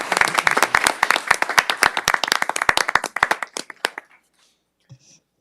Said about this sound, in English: But definitely a round of applause for all those involved with this effort.